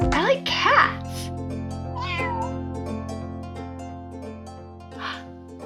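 A cat meows a few times near the start, with another short meow later, over a steady background hum and some talking.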